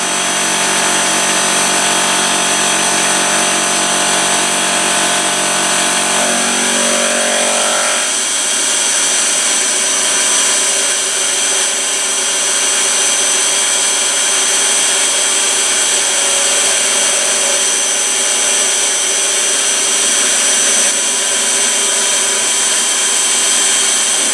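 A CNC mill machines a part held in a fixture, taking about an eighth of an inch off one side: a loud, steady whine and hum of spindle and cutting, with the tone shifting after a few seconds and then holding constant.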